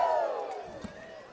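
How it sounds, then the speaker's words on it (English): Parent section cheering in the stands at a high school varsity football game, Rangers versus Stillwater Ponies: a brief, distant crowd cheer with raised voices, fading through a short moment alongside commentary-like talk. "the parent section cheer here"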